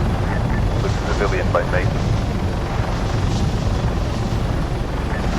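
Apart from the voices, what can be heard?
helicopter flying in the video game ArmA 3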